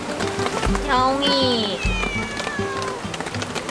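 A cat meows at a riverside campsite during a rainy camping trip, its rising and falling cries sitting under louder speech and camp background noise.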